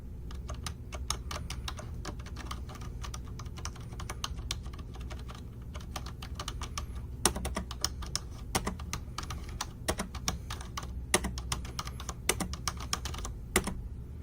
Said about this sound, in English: Not too much of a loud keyboard, although it does have a very clackety sound